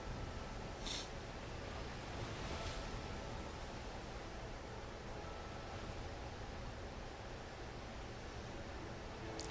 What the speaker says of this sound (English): The storm be giving us no quarter, sir!